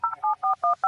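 Touch-tone telephone keypad dialing a number in an animated cartoon: five crisp, evenly spaced DTMF beeps, loud and close, with no speech.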